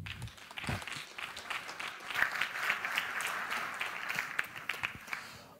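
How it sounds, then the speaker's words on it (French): Audience applause at a 2011 DLR conference talk, a steady wash of many hands clapping at moderate volume with dense, even crackle throughout, no voices over it. "Permettez-moi de vous faire applaudir Frédéric Fréry."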